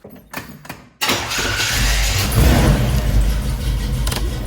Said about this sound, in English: fire up the truck, and get the heat cranking